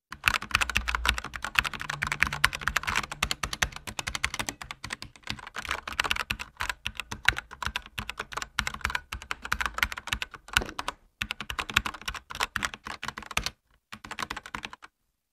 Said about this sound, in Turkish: Red Switch'e sahip bir klavye sesini de dinletiyorum şimdi sizlere